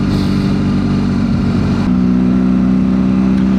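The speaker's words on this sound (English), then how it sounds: "I'm hoping the exhaust note isn't too droning either over the top of this audio" A BMW GS Adventure motorcycle with its exhaust baffles removed runs on the road, a steady loud droning engine note with a low hum that shifts pitch slightly midway, heard without talk.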